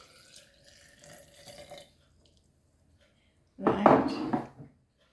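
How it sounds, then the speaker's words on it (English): Water poured into an amla (gooseberry) drink mixture: a single splashing pour of about a second, close and fairly loud, after a quiet stretch with faint background noise. "So water goes in."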